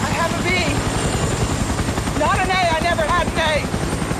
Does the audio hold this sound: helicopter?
yes